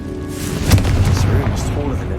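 The Confringo fire blast spell goes off in Hogwarts Legacy, a close, loud booming burst with a rumbling tail, mixed with other game effects and a spoken spell incantation.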